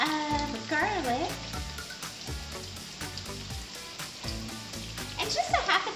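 Sweet potatoes sizzle and crackle in a pan with mild Italian sausage, a steady frying hiss heard up close beneath music and a voice talking.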